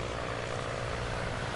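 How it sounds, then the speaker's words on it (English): Airplane flying high overhead, heard as a steady, unbroken engine drone with no breaks or nearby sounds over its short length. "Plane flying high in the sky."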